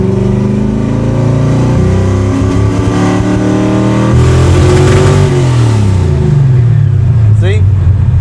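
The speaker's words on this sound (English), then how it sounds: "Now it wants to break up whenever you go full throttle." A car engine with a lean fault, revving hard at full throttle and stuttering as it breaks up, loud and close, with a voice talking over it.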